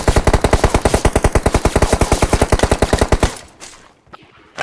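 Rapid automatic gunfire, likely from a video game, rattles off in a steady burst of about thirty loud shots, then abruptly stops as the ammunition runs out, leaving quiet clicks and faint noise.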